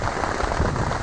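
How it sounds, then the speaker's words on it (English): Steady rain falls through the forest canopy around a tree sit high above celery top pines, a dense, constant hiss of drops on leaves and a tarp. It is close and even, with no voices. "you can watch the rain falling down to the ground from up above it"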